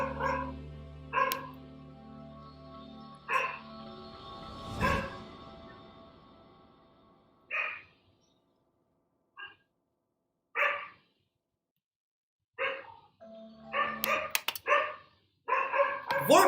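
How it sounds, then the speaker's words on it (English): A dog barks in sharp, separate bursts, several close together at the start and more scattered through the middle and end, with quiet gaps between them and a doorbell-like chime at the very beginning. "Why is my dog barking?"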